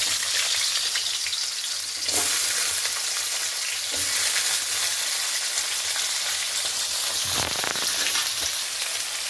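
Potatoes fry in a pan with a loud, steady sizzle and crackle that runs throughout, broken by a few brief stirring scrapes.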